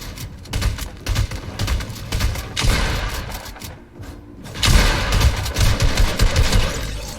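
Rapid video-game gunfire in a cash cup match, dense volleys of sharp shots and bursts with a brief lull, then another loud barrage close by.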